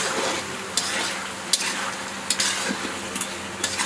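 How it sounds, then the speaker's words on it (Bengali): A spoon stirs curry in a pan after roasted cumin powder goes in, over a constant soft sizzle. Light clinks of the spoon against the pan come at irregular intervals, close by and with no talking. "দিয়ে দিচ্ছি ভেজে রাখা জিরার গুঁড়ো। হালকা নাড়াচাড়া করে এবার নামিয়ে নেব।"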